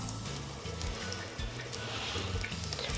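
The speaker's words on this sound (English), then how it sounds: "Just massaging the soap with my fingers to try to get it all over the beauty blender" A makeup beauty blender sponge is rinsed and squeezed with soap under running water, giving a steady close rush and splashing with soft squelching throughout, and no talking.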